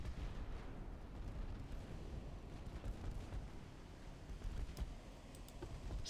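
Naval gunfire from gunboats and destroyers strikes the battleship Tennessee in a naval warfare video game, heard as a dense, steady roar of battle din with scattered sharper booms and bursts throughout.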